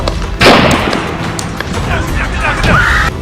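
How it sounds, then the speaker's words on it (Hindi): At Donald Trump's rally in Butler, Pennsylvania, a single loud, sharp gunshot cracks out, followed by a confused wash of crowd noise and voices. "इसी दिन पेंसिल्वेनिया के बटलर पार्क में डोनाल्ड ट्रंप पर गोली चली थी।"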